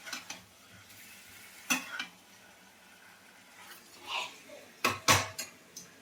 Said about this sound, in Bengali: এবারে নাড়াচাড়া চলছে, দেখেছেন?